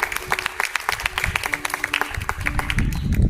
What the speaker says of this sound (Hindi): आप इन सभी का आभार व्यक्त करें तालियों से।